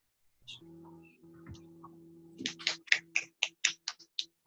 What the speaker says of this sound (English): Oh, clapping.